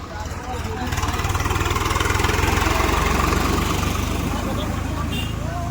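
A tractor engine chugs steadily and loudly nearby, returning from a Ganesh idol immersion, its low rhythmic throb continuous, with voices faintly in the background.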